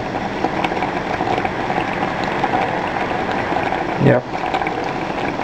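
Spiced sorrel jam bubbles in a pot on the stove, a steady, close, dense simmering fizz under a person's brief talk, with a short clunk near the end.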